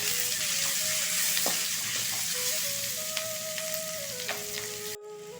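Onion mixture for chicken curry frying in a pan, a steady close sizzle with occasional stirring scrapes, no voices heard.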